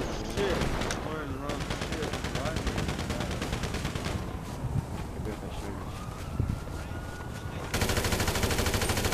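Rapid gunfire in GTA 5 Online during a street fight with the Los Santos police, dense bursts running almost continuously under shouting voices and game noise.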